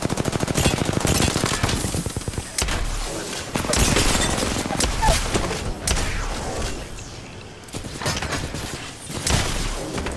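Gunfire in the video game Apex Legends: loud rapid bursts of automatic fire with heavy booms and mechanical clatter, arriving in several clusters separated by short lulls.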